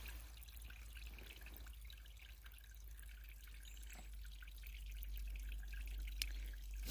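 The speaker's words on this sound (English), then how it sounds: "Just flowing right out of the rock here." Spring water trickles and drips steadily from a rock face beside the Appalachian Trail, a soft, continuous outdoor sound with no voices.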